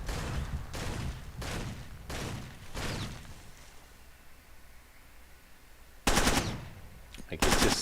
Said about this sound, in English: So now I'm gonna have to go with the Uzi because I can't see the other guy.